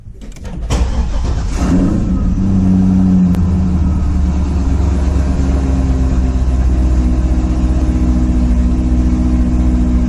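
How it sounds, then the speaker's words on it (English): A 2005 Chevrolet Corvette's engine cranks briefly and catches, then settles into a steady, loud, deep idle close by, with no talking. "So let's try to start the car."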